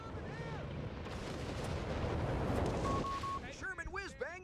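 Heavy gunfire and artillery rumble in Company of Heroes 3, a dense continuous roar of battle with booming blasts, followed by in-game voice callouts near the end.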